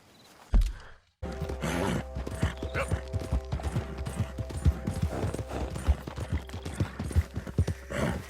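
Horse hooves in the video game Gangs of Blackwater clip-clop in a rapid, uneven rhythm on a hard surface after a brief thump, close and continuous with mechanical rattles beneath.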